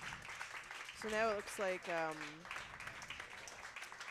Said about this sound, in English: you can hear the claps there for the girls coming off of sheet B